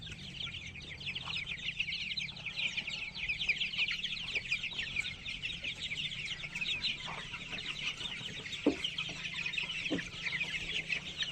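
Chickens cluck steadily in a coop, a dense, continuous chorus of many birds close by with no talking.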